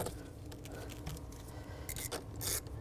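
Ratchet wrench tightening the battery cable nut on a 2007-12 BMW X3: a fast, faint ticking of the pawl runs throughout at close range, with a few louder clicks near the end.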